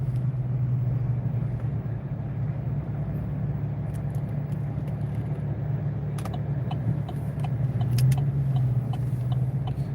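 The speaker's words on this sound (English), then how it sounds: "I am driving in Okanagan tonight." A car drives at night in Okanagan, with a steady low engine and road rumble filling the cabin. Faint clicks and rattles come and go over the drone.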